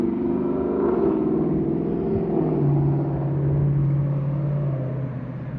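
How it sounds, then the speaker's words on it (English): A car engine rumbles steadily with a deep, throaty muffler drone, holding loud and close before easing off slightly at the end. "And some people have to have loud noise in their car."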